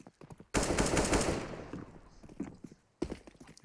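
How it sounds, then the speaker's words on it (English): Heavy automatic gunfire in CS:GO during a professional esports match on the Inferno map, a sudden loud sustained burst of rapid shots that cuts off, followed by a quieter gap and another short burst. "Daps is hearing all of this gunfire coming his way"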